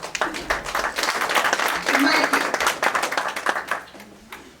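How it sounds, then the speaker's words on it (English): Audience applause rises and fills a community forum hall for a man named Roy, steady clapping from a crowd near the mic, with a voice speaking over it at the start. "You can give Roy his round of applause."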